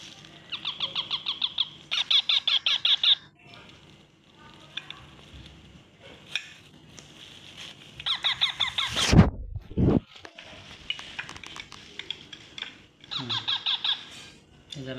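Pet parrots squawk and chatter while being hand-fed, with bursts of sharp calls coming in clusters, one loud screech partway through, and quieter rustling between calls.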